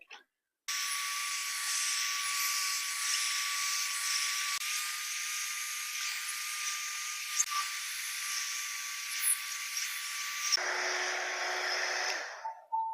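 A 3-in-1 hot air brush blows steadily while hair is styled, giving a close, even airy whine with faint brushing rustles, then dropping to a lower setting near the end before it stops; no talking.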